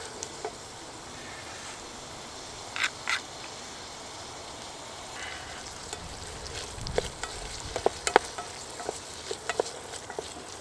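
Onions and paprika fry outdoors in a pan on a Trangia stove, giving a low, steady sizzle with occasional clinks and scrapes of stirring that grow busier toward the end.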